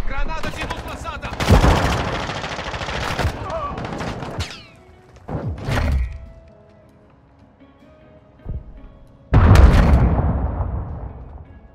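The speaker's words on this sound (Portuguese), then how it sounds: "Granada de luz lançada." Call of Duty Modern Warfare II gameplay with a flash grenade thrown amid combat: bursts of gunfire and sharp blasts, loud and close, then a ringing lull with a lone pop before another heavy burst.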